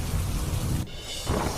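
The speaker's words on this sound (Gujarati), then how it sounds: "ઉત્તરાખંડમાં મેઘો અનરાધાર" Heavy torrential monsoon rain in Uttarakhand, a dense steady roar of downpour filling the scene, with a brief dip partway through before the loud wash returns.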